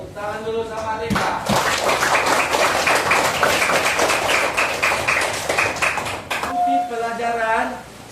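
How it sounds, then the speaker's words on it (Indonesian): Children give Rika a round of quick, lively clapping that lasts several seconds, with an adult voice speaking just before and right after. "Tepuk tangan dulu sama Rika."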